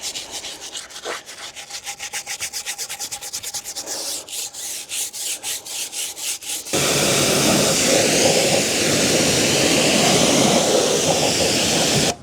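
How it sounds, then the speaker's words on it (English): A Bigboi power washer spraying car wheels, starting with a rapid pulsing, rasping jet and then settling into a loud, continuous, roaring hiss of high-pressure water, close and without speech. "There's some savage power to that Bigboi power washer anyway, that's for sure."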